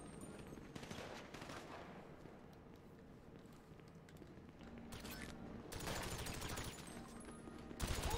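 Heavy automatic gunfire with incendiary rounds in GTA Online during a Doomsday Heist mission, a dense, continuous barrage of fast shots with louder bursts swelling near the end.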